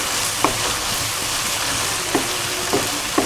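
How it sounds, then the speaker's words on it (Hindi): Masala spice paste fries in a pan for tinda sabzi gravy, giving a loud, continuous close sizzle broken by a few light clicks of stirring. "इसको 4 से 5 मिनट हो गए फ्राई होते हुए"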